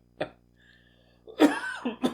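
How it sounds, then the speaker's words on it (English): A person's cough, two or three harsh bursts in close succession with a throaty clearing quality, loud and near with brief quiet gaps, no talk. "I am recovering from a bad cough that I'll probably never get rid of."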